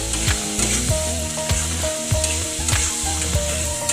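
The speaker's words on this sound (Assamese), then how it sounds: "এইখিনিও তেল বিৰিঙি উঠালৈকে আমি ভাজি থাকিব লাগিব, যাতে আদা নহৰু কেঁচা গোন্ধটো নাহে।" Ginger-garlic paste frying in hot oil on a raised gas flame for an egg curry, giving a steady, close sizzle with a melodic, rhythmic music track playing over it throughout.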